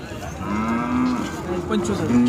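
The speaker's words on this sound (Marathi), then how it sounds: "जातीवंत खिल्लार गाय आहे" A Khillar cow moos in a long, drawn-out low call, then lets out a second shorter moo, close by with faint background noise, at a cattle market in Sangola.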